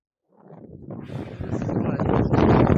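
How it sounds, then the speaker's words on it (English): Wind blowing outdoors, rising from silence into a gusty, rushing buffet against the microphone that grows steadily louder over a few seconds, no voices. "Wow, it's windy out here today."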